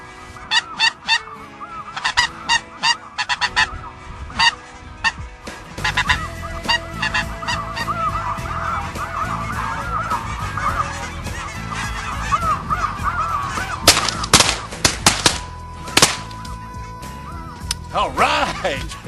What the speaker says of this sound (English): There's lots of Canadas down in the bottom side of it, but there is snow geese as far as you can see down there.